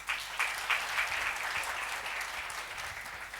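Audience applause for a speaker at a live budget discussion, a fairly faint but sustained patter of many hands clapping with a few sharper claps near the start, evenly spread across the clip.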